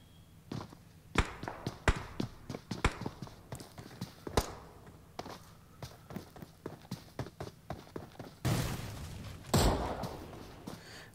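Gunfire in a battle royale video game custom match, including sniper shots: a long run of sharp, fairly loud cracks at irregular intervals, with a denser, louder burst near the end.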